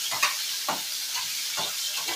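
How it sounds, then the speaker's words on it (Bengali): Tiger prawns frying in hot oil give a steady close sizzle, with a few brief stirring scrapes that come back at intervals. No one speaks. "এই বাগদা চিংড়িটাকে কিন্তু আমি ভেজে নিচ্ছি"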